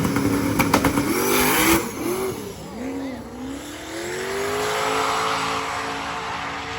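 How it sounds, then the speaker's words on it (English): A Corvette making a drag racing pass, its engine roaring loudly with sharp revving and shifting sweeps up close, then a sustained high-pitched drone as the car pulls away down the strip. "after the first pass, getting pretty squirrely in the Corvette, we're going to see him make a second one"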